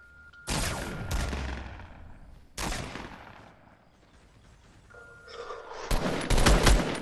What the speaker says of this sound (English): Who's shooting you, bro?